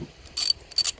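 Two quick bursts of metallic ratcheting from a wrench tightening a battery terminal on a 2012 Volkswagen Passat 2.5 five-cylinder, close and crisp against a quiet background.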